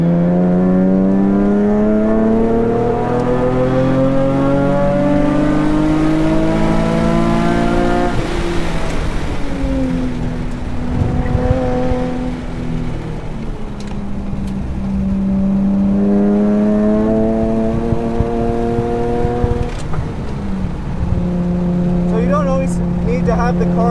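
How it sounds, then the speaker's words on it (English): Nissan 370Z Nismo engine revving at high RPM on the Thunderhill Raceway track, a loud close climbing and falling engine note through repeated shifts, with people talking inside the car. "To have the car that high in RPMs."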